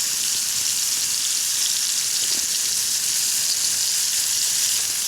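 Seasoned rib-eye steak and seafood cooking over a campfire, a loud, continuous, even sizzle and crackle that stays steady throughout.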